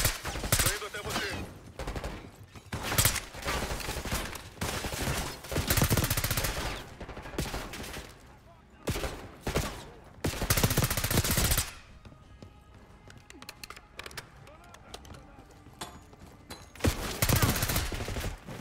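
Rapid gunfire bursts and single shots from a Call of Duty Black Ops 6 campaign firefight, loud and dense in clusters with brief lulls between exchanges.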